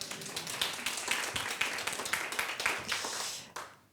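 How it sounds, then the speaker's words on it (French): Audience at a business pitch competition claps steadily for several seconds, a dense, close patter of many hands that tapers off near the end. "Vous pouvez vous applaudir"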